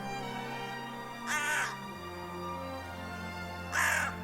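A crow gives two harsh, separate caws, close and loud, spaced a couple of seconds apart over a steady low background hum.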